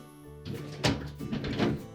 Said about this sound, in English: we'll start to reassemble by putting the frame in for the deli drawer